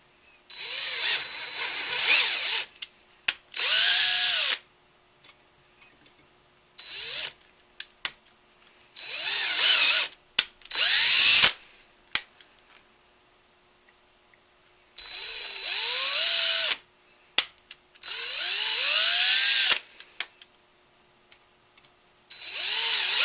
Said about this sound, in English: You want to tap them number 832.